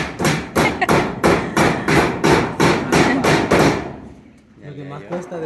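Nails are hammered into wood during construction of a small new house, with about a dozen loud, evenly spaced blows over four seconds. A voice then speaks once the hammering stops.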